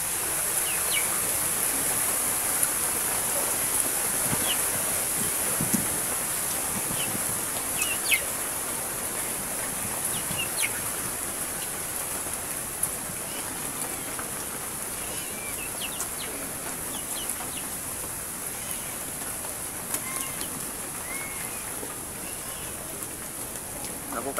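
Steady rain falls throughout as a dense hiss, with occasional faint bird chirps and a rooster far off in the background.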